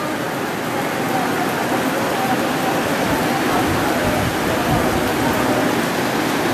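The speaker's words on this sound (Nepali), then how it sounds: "पानी पऱ्यो म भित्र जान्छु ल" Rain falls outdoors as a loud, even, continuous wash of noise that holds steady from start to finish.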